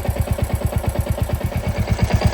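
A hot Royal Enfield Classic Reborn engine idles close up with a rapid, regular thumping clatter, each beat a heavy pulse, loud and unbroken for the whole stretch.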